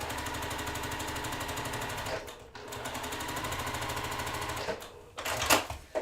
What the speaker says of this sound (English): Nest our seams, and we're going to sew them down.